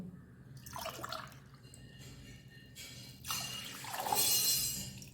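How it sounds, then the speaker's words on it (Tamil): Water poured from a vessel onto washed rice in a pressure cooker for sweet pongal, a soft splashing trickle that swells twice, growing louder and fuller toward the end, with no talk. "இப்போது நம்ம அரிசி சேர்த்தோம்ல அதே அளவுக்குல தண்ணி சேர்த்துக்கலாம்."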